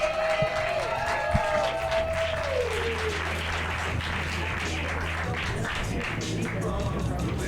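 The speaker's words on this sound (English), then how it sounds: "Put your hands together for your first round." A comedy roast battle audience gives steady, sustained applause with crowd noise and a faint whistle-like tone early on, filling the whole stretch.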